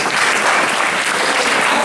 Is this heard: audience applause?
yes